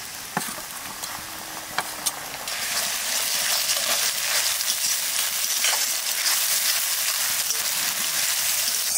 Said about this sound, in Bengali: আদা রসুন একটু ভেজে নিলাম